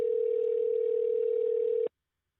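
A telephone call on a livestream gives a single steady electronic phone tone, loud and unbroken for almost two seconds before cutting off abruptly into silence.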